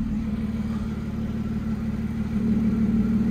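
A Lotus Exige 380 with an Alias 23 intake idles steadily with its exhaust valve shut, a constant low, muffled rumble close by that swells slightly toward the end.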